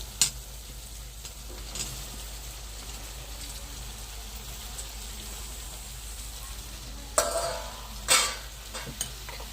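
Bitter gourd curry with tomatoes, green chillies and ginger paste frying in a pan, a steady soft sizzle throughout with a few sharper clatters and stirring scrapes near the end, no talking.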